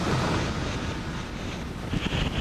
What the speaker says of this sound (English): We've got 30 knots of wind, pretty big seas running out here.